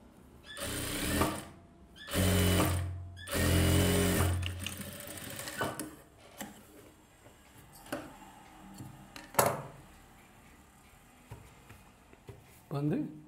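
A sewing machine runs close by in several short bursts while stitching a silk dress for a one-year-old baby, separated by pauses filled with small clicks and handling sounds.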